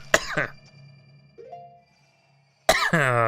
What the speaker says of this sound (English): you can tell it's time for me to wrap up when I'm starting to cough a lot